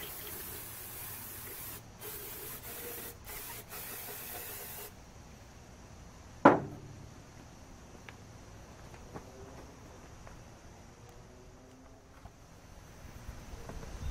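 Carburetor cleaner sprayed from an aerosol can onto engine parts of a 2000 Isuzu Rodeo 3.2, a steady close hiss lasting about five seconds, then a sharp clank and quieter shop noises.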